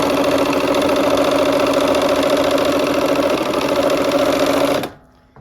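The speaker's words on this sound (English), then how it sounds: "I'm going to sew this last seam on the corner block." A sewing machine runs steadily, stitching the last seam of a quilt corner block with the needle-down setting. Its even, mechanical whir holds for almost five seconds, then stops abruptly, leaving near silence.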